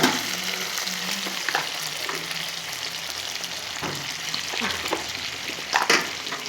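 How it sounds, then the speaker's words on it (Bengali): Boiled potatoes fry in hot oil, a steady bubbling sizzle close by, punctuated by occasional stirring scrapes and a louder spatter near the end, with no speech. "এবার এই আলুগুলো ভালো করে ভেজে নেব।"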